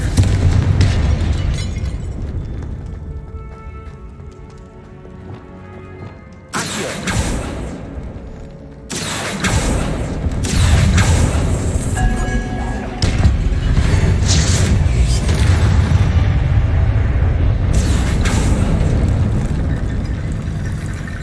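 A Confringo fire spell exploding in the Hogwarts Legacy video game, heard as a series of loud booming blasts and rumbling bursts over continuous game ambience.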